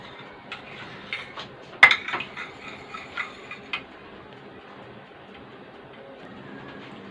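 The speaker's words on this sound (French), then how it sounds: "وغادي نحركو حتى تذوب لينا مطيشه الحك في الماء سخون" Tomato paste stirred into hot water for sausage lasagne: a spoon clinks and scrapes against a pot in a string of light taps, sharpest early on, then fading to near silence.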